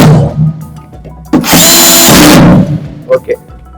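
Power screwdriver tightening terminal screws in a three-phase distribution box with a rotary switch and MCBs: one loud, close whirring burst lasting about a second, with brief clicks and handling noises before and after.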